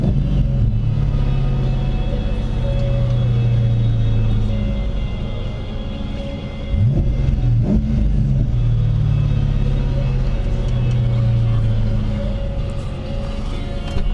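A supercharged 1997 Ford Mustang GT idles with a deep, steady rumble and is blipped once or twice from inside the car, the revs rising briefly before dropping back to idle.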